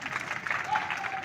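An audience at a Hindi poetry recital gives a brief burst of clapping, steady and fairly close, with a voice speaking faintly beneath it.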